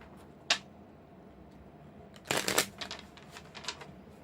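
Tarot cards are shuffled up close: one sharp snap, then a dense riffle of papery flutters and a few softer follow-up flicks, with no talking.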